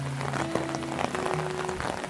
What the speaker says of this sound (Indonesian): Sedang hujan deras, lokasi camping di Smiling Cinangka.